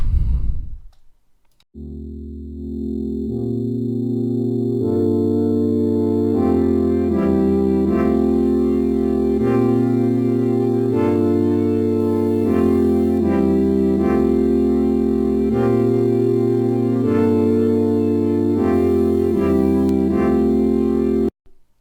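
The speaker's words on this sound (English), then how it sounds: "now we have this really lush lo-fi pad" A warm, lush Serum synth pad plays sustained chords that shift slowly through a progression, filtered and mellow with a lo-fi character, steady and alone.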